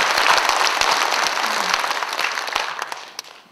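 Crowd applause during a political campaign speech, a broad wash of many hands clapping that fades gradually toward the end, with a few isolated louder claps.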